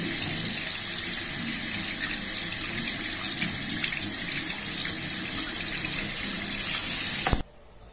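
A small piece of fresh turmeric root is rinsed under a running kitchen tap, a steady close splashing stream that cuts off abruptly near the end.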